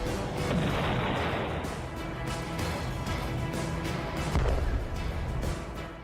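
Artillery cannon fire on a battlefield in Ukraine, a dense, loud stretch of booming blasts and crackling reports close by, continuous with no talking.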